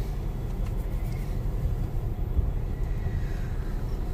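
Steady low road traffic rumble fills the whole stretch, a continuous broad drone of engines with no distinct passes and no voices.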